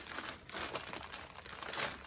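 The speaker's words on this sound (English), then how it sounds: "I'm sure this crinkling is so bad" Plastic toy packaging crinkles during an unboxing, a close, dense run of crackling rustles that swells and fades in bursts over a couple of seconds, with no talk.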